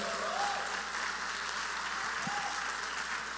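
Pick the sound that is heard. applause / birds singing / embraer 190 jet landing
applause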